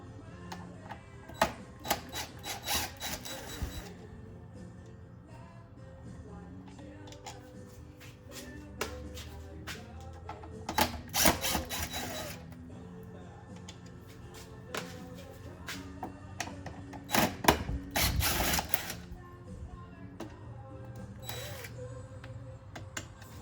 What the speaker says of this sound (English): remove these 4 T15s from the motor